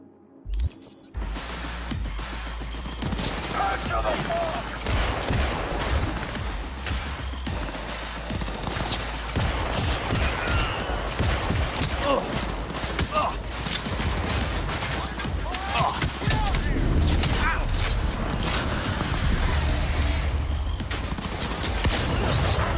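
Shotgun fire in the video game Cyberpunk 2077 blasts in a dense, loud, nearly continuous barrage for over twenty seconds, mixed with other game combat noise while a person talks over it.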